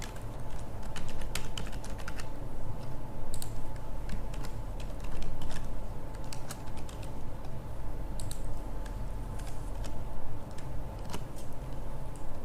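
Keys clatter on a computer keyboard as a username and password are typed, a steady run of close, crisp clicks with no talking.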